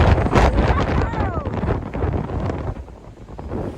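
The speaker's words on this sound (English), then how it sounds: "But it is windy." Strong gusts buffet the microphone on a cold, windy mountain summit during a May hike of Old Speck, a rough continuous roar that rises and falls without letup.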